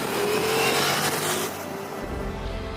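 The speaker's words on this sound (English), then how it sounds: "The Ducati's 170 horsepower V4 Gran Turismo motor is fantastic." A Ducati Multistrada V4S with its 170-horsepower V4 engine revs and roars past, a loud rising snarl that fades into a lower drone in the final second.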